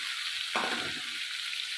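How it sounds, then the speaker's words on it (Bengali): Marinated okra hits a pan of hot oil with half-fried tomato, setting off a sudden burst of louder sizzling within a steady close hiss of frying that continues throughout. "যে ঢ্যাঁড়সটা ম্যারিনেট করে রেখে দিয়েছিলাম সেইটা আমি এবারে দিয়ে দিলাম"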